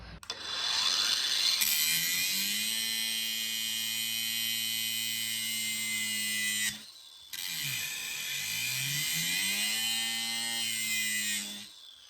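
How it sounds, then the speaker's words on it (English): An angle grinder runs continuously at high pitch while grinding protruding screw tips flat on a rustic pallet wood picture frame, with a brief drop in the middle before the whine picks up again; no talking. "I'm gonna take my grinder that you see here, I'm gonna grind off these tips so they lay flat"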